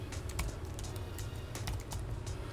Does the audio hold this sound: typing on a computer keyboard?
yes